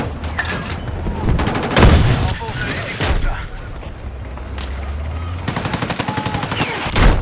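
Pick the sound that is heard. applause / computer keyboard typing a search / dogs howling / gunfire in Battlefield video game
gunfire in Battlefield video game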